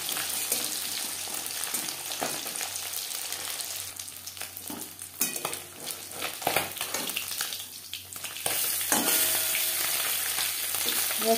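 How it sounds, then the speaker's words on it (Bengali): Bele fish frying in oil in a pan, a steady close sizzle with crackles and spatters that swells louder toward the end, no talking. "বেলে মাছ খুবই নরম মাছ, আমি একটু কড়া করেই ভাজবো।"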